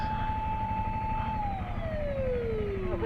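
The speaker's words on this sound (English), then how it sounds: "Ambulance." Ambulance siren on a Tokyo street, a loud steady wailing tone that slides downward in pitch over heavy rumbling traffic and engine noise, with no talking.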